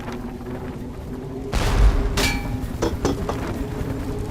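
Gunshots in the adventure game The Book of Unwritten Tales: The Critter Chronicles, a couple of loud close booming blasts followed by a few sharper cracks over a steady background hum.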